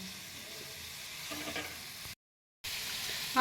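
Broccoli boils briefly in hot water in a wok, giving a soft, steady bubbling hiss that cuts out for a moment before resuming.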